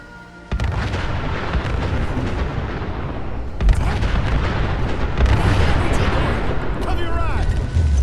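Gunners firing at mannequins in the video game Fallout 4, a sudden onset of heavy, sustained gunfire and booming blasts that continues for several seconds, loud and close, with a voice speaking amid the shooting.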